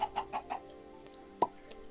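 A video game chicken clucks in a quick run of four short clucks, then gives one sharper squawk after a pause, close and clear over faint background.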